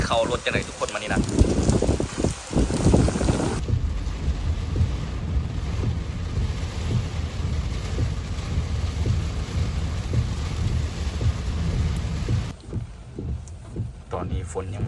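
Steady heavy rain and strong storm wind roar across the whole stretch in Vientiane, Laos, with gusty microphone buffeting and a voice speaking early on.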